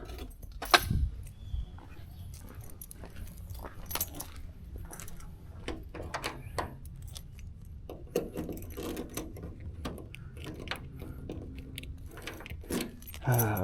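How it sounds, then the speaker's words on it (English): A set of car keys for a 1968 Cadillac DeVille jangles and clinks up close in a steady run of small metallic rattles and taps, fairly quiet and without talk. "Let me grab the keys."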